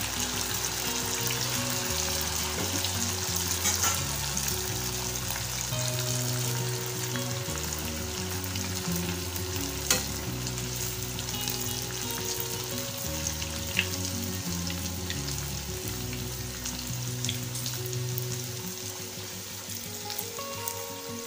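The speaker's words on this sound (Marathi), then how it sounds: "मध्यम गॅसवर आपल्याला हे वडे तळून घ्यायचे आहेत।" Red-chilli sabudana vadas deep frying over medium heat in a pan of oil, a steady dense sizzle and bubbling that carries on evenly, with a few faint clinks and stirs now and then.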